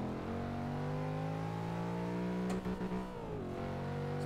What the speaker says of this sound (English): I'm loving the sound of that overrun rumble.